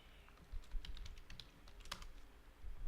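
A password is typed on a computer keyboard in a quick run of light, close key clicks, irregular and uneven in pace, with a sharper tap near the end and no voices.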